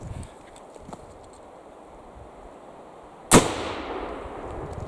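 A .58 caliber Needham conversion rifle fires a 70-grain black powder charge outdoors, a single sharp, loud blast near the end followed by a fading rumble, after quiet rustling.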